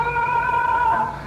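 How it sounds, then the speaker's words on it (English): A thin, bright electric guitar tone from a guitar with one pickup's phase reversed holds a sustained note with a slight bend near the end, played solo and fairly loud. "If I reverse the phase of one of the pickups, it goes very trebly."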